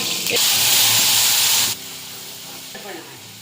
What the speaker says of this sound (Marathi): आता छान मोहरी तडतडते बघा